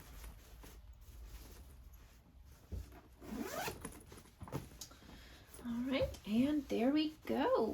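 A zipper is pulled closed along the top of a fabric Pelican Tote bag, several quick close zipping strokes in a row near the end, following rustling of fabric.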